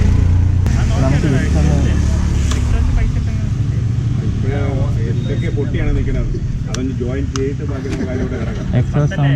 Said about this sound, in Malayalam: എക്സോസ്റ്റ് സൗണ്ട് നോക്കാം. പക്ക ഇൻലൈൻ ഡോറിൻ്റെ സൗണ്ടാണ്.